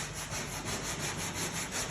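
Steady abrasive rasping of hand sanding on the body of a 1979 El Camino around a spider crack, a continuous close scratchy rubbing with a faint back-and-forth pulse and no voices.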